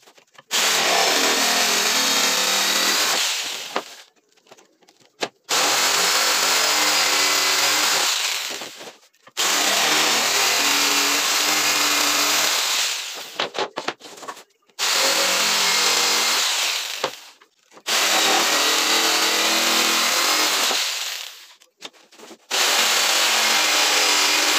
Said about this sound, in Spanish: lo voy a hacer con la caladora, despacito, que quede bien recto